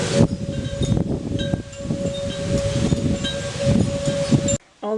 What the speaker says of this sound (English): the wind is really picking up, and the sky is not looking so great